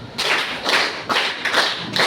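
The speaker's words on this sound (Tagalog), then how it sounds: "Isa. 1, 2, palakpak." A classroom of students claps together in rhythmic bursts, several broad slaps repeating about every half second in an unison pattern, fairly close and steady with no talk.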